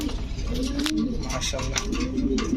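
Pigeons of racer, Sirazi, Budapest, Danish and beauty breeds coo close by in repeated soft, throaty calls over low background noise.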